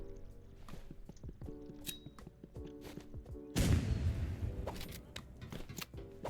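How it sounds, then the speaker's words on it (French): A burst of rapid gunfire erupts in the video game Rivals, a dense clattering volley standing out over scattered in-game clicks, impacts and effects. "Une petite rafale dans la tête"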